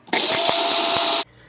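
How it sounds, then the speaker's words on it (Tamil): A kitchen mixer grinder grinds sambar powder spices in one loud, steady whirring burst of about a second, starting and stopping abruptly. "இப்போ இதை கொட்டி வச்சுட்டு மீதி இருக்கிறதையும் நம்ம அரைச்சி எடுத்துக்கலாங்க"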